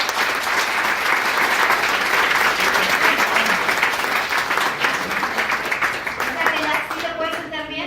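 Sustained applause from a church congregation, dense clapping throughout that begins to thin near the end as a voice comes in.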